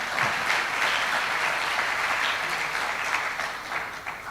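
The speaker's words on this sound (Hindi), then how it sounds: "ताली बजा लो आप ठीक से पहले।" A seated audience at a Hindi spiritual discourse claps together in a continuous, dense burst of many hands, loud and even throughout, easing off slightly at the close.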